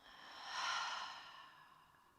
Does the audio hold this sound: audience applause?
no